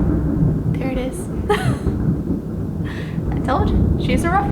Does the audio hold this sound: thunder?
yes